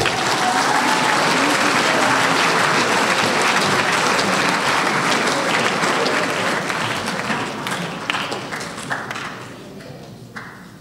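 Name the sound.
audience round of applause at a school speech night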